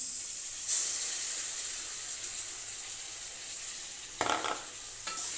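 Spice paste sizzles in a frying pan with frying potatoes for a Bengali fish curry with potato and pointed gourd, a steady close hiss broken by a few louder scraping stirs.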